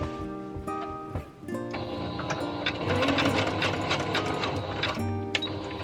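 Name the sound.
sewing machine zigzag stitching fabric bowl cover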